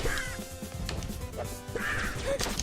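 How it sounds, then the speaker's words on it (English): Cartoon birds squawk in harsh, crow-like caws in the Flinthook game while their dropped bombs land, a couple of loud cries with clattery crashes between them over busy game noise. "these birds are kind of irritating. They keep dropping these bombs all over the place"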